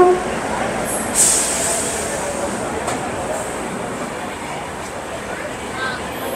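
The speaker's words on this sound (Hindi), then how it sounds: "अभी दादर से ट्रेन निकल गई है" Indrayani Express train running out of Dadar in Mumbai, a steady broadband rumble of wheels and carriages with a brief high squeal near the start, heard from on board.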